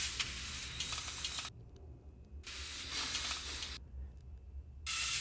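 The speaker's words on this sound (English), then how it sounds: "And then the final thing in that vocal and noise channel are these panning machine noises." Hissing, sizzling machine noises in a music mix pulse in regular bursts with quiet gaps between them, with a low rumbling bed beneath. They are fairly faint throughout.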